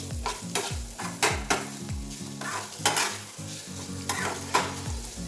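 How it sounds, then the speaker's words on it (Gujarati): Fresh green turmeric sautéing in hot desi ghee while being stirred, a steady sizzle broken by repeated scraping strokes of a spoon against the pan roughly every second, close and clear with no talk. "આ દેશી ઘીમાં હું સાંતળું છું"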